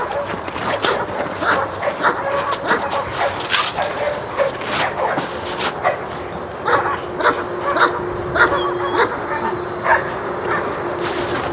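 East European Shepherd puppies, a litter of seven, yip, bark and whimper in a busy continuous chorus of short high cries close by, with some background noise throughout.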